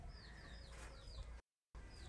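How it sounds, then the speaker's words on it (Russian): Chickens and roosters in Bali cluck and call faintly from a distance, with short rising calls over a steady background hiss and a brief cut to silence. "Тут очень много курочек, петухов"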